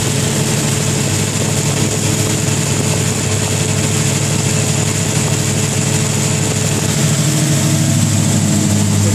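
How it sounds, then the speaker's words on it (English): Car engine fitted with MSD ignition held at raised revs, a loud, steady, continuous drone without pauses and no voices. "So we'll just get up in the revs a little bit."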